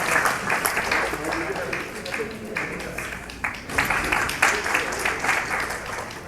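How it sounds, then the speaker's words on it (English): Applause at a convention as an honoree stands, a crowd clapping steadily with dense noisy texture and some voices mixed in underneath throughout. "You deserve a round of applause."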